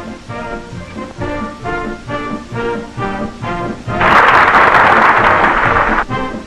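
Circus audience bursts into loud, dense applause after an act with trained horses and a whip-cracking performer, the clapping starting abruptly partway through over rhythmic band music and holding steady until near the end.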